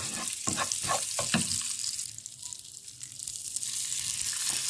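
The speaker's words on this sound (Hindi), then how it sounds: "लाइट सा हम इसको फ्राई करेंगे, खुशबू आने लगेगी। और हम डालेंगे इसके अंदर देसी घी।" Semolina fries in desi ghee in a pan, giving a steady close sizzle with a few quick stirring scrapes near the start, then a lighter, continuous frying hiss.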